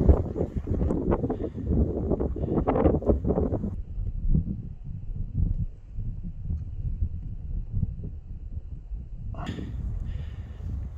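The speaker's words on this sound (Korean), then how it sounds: "바람 안 불면 정말 좋은데" Wind gusting across a golf course at Gyeongju CC, buffeting the microphone in rough low rushes, with people talking intermittently throughout.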